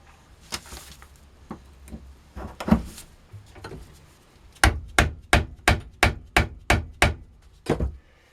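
Composition is pounded into a spolette time fuse tube for a 3-inch cylinder firework shell: a few scattered thuds, then a quick run of about eight evenly spaced, sharp hammer blows close by, with no talking.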